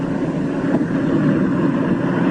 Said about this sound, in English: His one remaining engine is losing power.